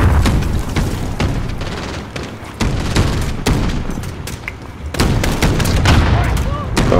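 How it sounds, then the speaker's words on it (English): Dense Call of Duty Modern Warfare campaign combat with RPG blasts and gunfire, loud and continuous: sharp repeated shots and heavy booms crowd together across the whole stretch with no pause. "They shooting RPGs at me?"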